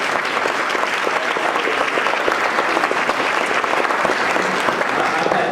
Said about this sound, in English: give Dr. Nelson another big round of applause